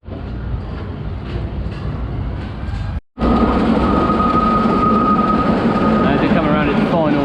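A classic wooden-style roller coaster at Dreamland Margate runs with a steady, loud rumbling roar and rail clatter, broken by a brief drop to silence before the noise returns louder with a sustained whine on top.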